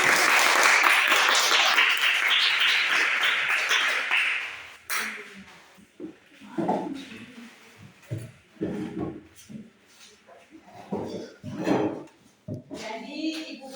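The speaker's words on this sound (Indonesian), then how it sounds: "Ya, kita berikan tepuk tangan" Classroom applause from students after a group presentation, a dense burst of clapping for about five seconds that then fades into scattered claps, shuffling and a voice speaking.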